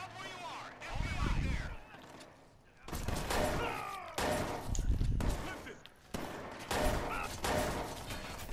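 Zero Day Rifle gunfire in the video game Watch Dogs, with rapid bursts of shots in several clusters over game noise while people talk over the action.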